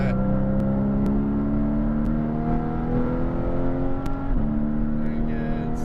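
Race car on a Las Vegas track, back on the throttle after the apex, with a loud, steady engine whine that climbs in pitch throughout, a brief shift blip near the end and a voice talking over it.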